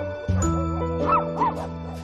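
Close vocalizations of rescued dogs at an animal sanctuary in Cavite, several yelping barks and whimpering cries over a steady background hum.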